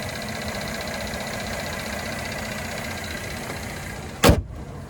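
A 2014 Mercedes-Benz SLK 350's 3.5 V6 idles steadily with a smooth, even hum under an open hood, ending in a single sharp thud near the end.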